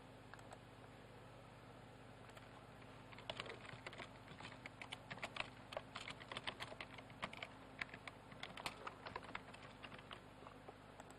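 Login details are typed on a computer keyboard in a quiet room, a run of light, quick key clicks with brief pauses over a low steady hum.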